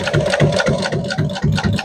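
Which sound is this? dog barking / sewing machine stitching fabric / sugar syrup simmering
sewing machine stitching fabric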